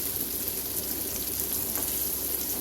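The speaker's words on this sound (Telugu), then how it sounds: "ఉడకబెట్టుకున్న కాకరకాయ ముక్కలు ఉన్నాయి కదా, అవి వేసుకొని ఒక 10 నిమిషాలు వేయించుకుంటూ ఉండాలి" Boiled bitter gourd pieces fry with onion and curry leaves over a low flame, giving a steady, even sizzle that holds at one level from start to finish, close by and with no voices.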